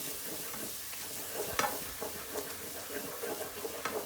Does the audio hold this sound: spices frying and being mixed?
yes